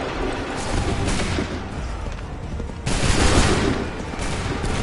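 Massed musket volleys fire in the Assassin's Creed 3 video game, with two loud dense bursts of gunfire rolling into a sustained crackling roar, near and continuous.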